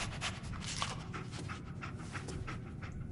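Dogmeat the dog in the Fallout 4 video game pants and sniffs steadily at close range, a continuous breathy rasp with no talking.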